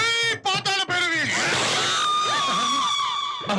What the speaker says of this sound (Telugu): అదేంటి అలా అరిచింది?